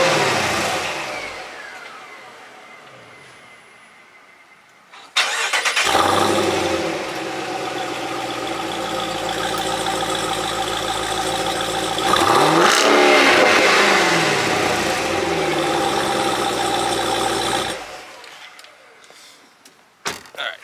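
Jeep Trackhawk engine fading from an earlier run, then firing up with a sharp bark into a loud, rumbling idle, swelling into a quick rev before cutting off, followed by brief clunks.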